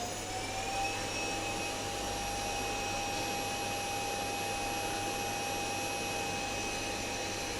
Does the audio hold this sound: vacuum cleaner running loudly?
yes